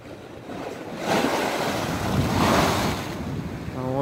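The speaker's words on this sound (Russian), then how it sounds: "А вот и волна." Sea waves washing in on the Yalta embankment in winter, a surging rush of surf that swells and recedes, with heavy wind buffeting the microphone.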